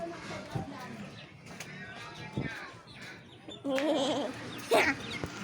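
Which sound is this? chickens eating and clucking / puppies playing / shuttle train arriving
chickens eating and clucking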